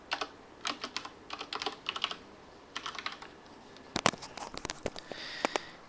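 Computer keyboard typing, quick clusters of light key clicks in short bursts with brief pauses, close and fairly quiet, no talking.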